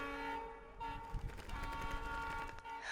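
A train rumbles along with a sustained horn-like toot over the rolling clatter of the wagons, fairly close and continuous, with no talking.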